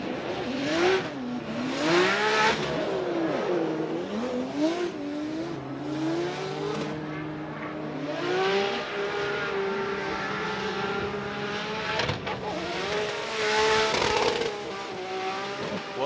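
A Formula Drift Pro car screams past solo on a bye run at Atlanta, with high, wavering engine revs and tire squeal, loud and close, the pitch climbing and dropping as it slides through the run.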